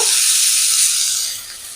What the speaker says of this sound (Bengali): এবার ডুমোরও দিয়ে দেবো একটু ভেজে নেব